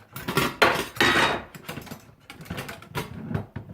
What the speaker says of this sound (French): On met ça dans le pressure cooker et ça cuit par pression.